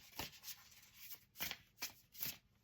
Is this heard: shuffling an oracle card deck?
yes